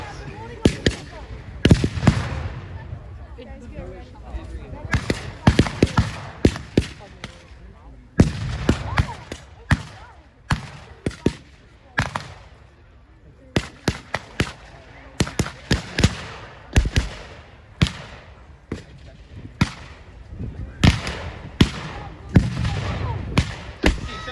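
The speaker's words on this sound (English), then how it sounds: "They're taking some fire. Germans are firing here" Gunfire in a WWII battle reenactment with German troops firing, including a Gewehr rifle: sharp, loud rifle shots crack out irregularly, singly and in quick clusters, across the whole stretch, with voices faintly underneath.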